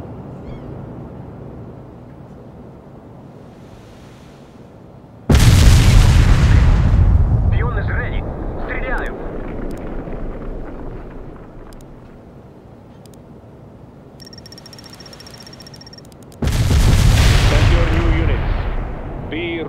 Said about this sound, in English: Launching a barrage.